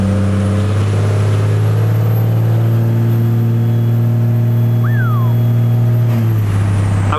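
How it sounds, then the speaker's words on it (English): A pickup with a compound turbo 12-valve Cummins engine drones loudly and steadily up close, a heavy low engine tone with a high turbo whine that rises slightly before the revs drop near the end. "But this truck, guys, it sounds absolutely incredible."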